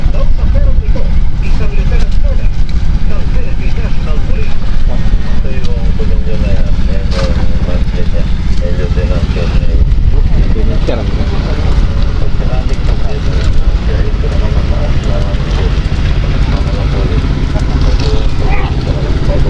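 Fishing boat engines on the sea off Baler drone steadily in a loud, continuous low rumble that fills the whole stretch, with someone talking over it.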